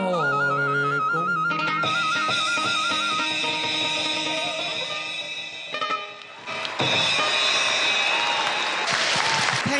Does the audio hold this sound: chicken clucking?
no